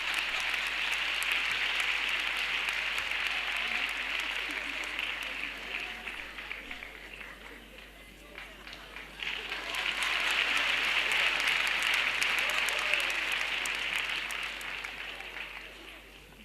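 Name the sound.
audience applause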